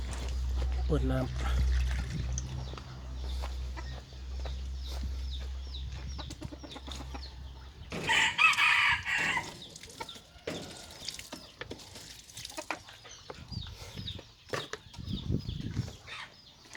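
Jungle fowl kept as farm chickens, clucking at intervals with a sudden burst of wing flapping in the middle, close by, while someone talks throughout.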